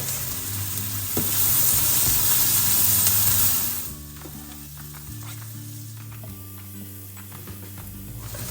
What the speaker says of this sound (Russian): Обжарю морковку до полуготовности